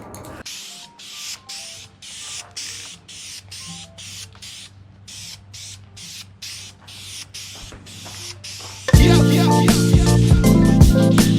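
Aerosol clear coat spraying onto exhaust long-tube headers, steady hiss interrupted by short gaps as the can is triggered in bursts, then a loud burst of music takes over near the end.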